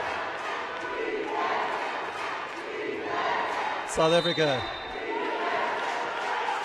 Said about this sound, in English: their home support, cheering on the Amawila boys